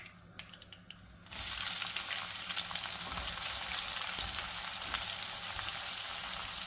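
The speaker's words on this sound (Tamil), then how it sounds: "So we are waiting for the onions to turn into a light brown color." Onions frying in hot oil with mustard seeds and curry leaves for an aubergine curry, starting after a short quiet moment and then a steady, close, loud crackling sizzle that continues without talk.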